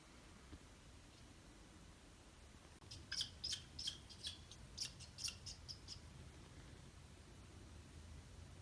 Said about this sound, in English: Something chirping at us,